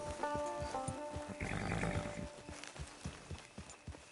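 A horse in the Red Dead Redemption Online video game whinnies and snorts close by, with soft hoof clops and a faint rhythmic background under it.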